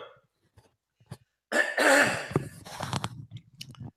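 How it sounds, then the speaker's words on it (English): A person clears their throat in a rough, raspy burst after a brief silence, followed by smaller throaty clicks and a swallow, close to the microphone. "I think I need to clear my throat"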